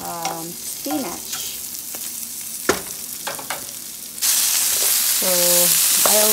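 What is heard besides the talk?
okra, green beans, squash and spinach cooking in pan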